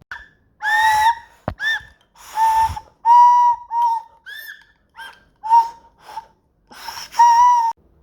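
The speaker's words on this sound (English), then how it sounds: "All the engines blew their whistles loud and proud." Steam engines sound their whistles at the opening of a new engine shed, giving a loud, close series of short and long tonal blasts separated by brief silences, some overlapping in pitch.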